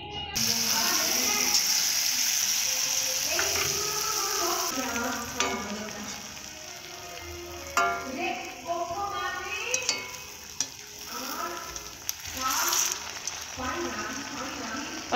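Food fries in hot oil with a steady, loud sizzle, while a utensil stirs and scrapes through it in repeated rhythmic strokes close by; a voice is faintly present at times.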